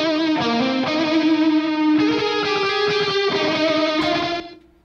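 An electric guitar played through mixing effects rings out with distorted, chorus-thickened held notes and short melodic moves, steady and close before trailing off at the end, with no voices over it.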